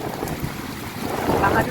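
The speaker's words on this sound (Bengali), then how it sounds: "অঝোরে বৃষ্টি হচ্ছে, অঝোরে।" Heavy rain pours steadily with gusting wind in the Baghajatin area, a dense continuous roar with wind buffeting the microphone and no clear pauses.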